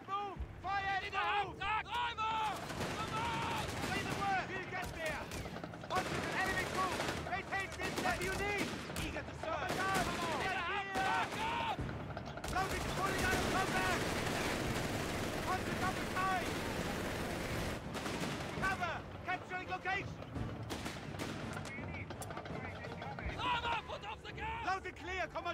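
Panzer Grenadiers trade gunfire in a Company of Heroes 3 DAK team battle: continuous rifle and machine-gun bursts mixed with heavy blasts, loud and dense throughout, with voices heard through the fighting.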